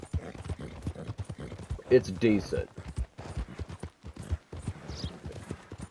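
A Tennessee Walker horse in the video game Red Dead Redemption 2, its hooves clip-clopping in a steady rhythmic gait beneath someone talking, with a brief louder burst midway.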